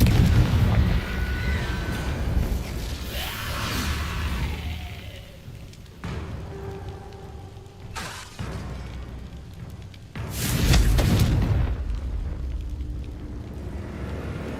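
Confringo blasting-spell explosions in Hogwarts Legacy, a series of loud booming bursts with rumbling tails, the biggest blasts near the start, around eight seconds and past ten seconds.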